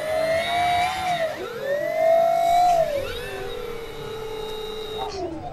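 A model DHC-6 Twin Otter seaplane with two engines running, their whining tones rising and falling as one speeds up while the other slows, giving crossing, sweeping pitches heard close and steady.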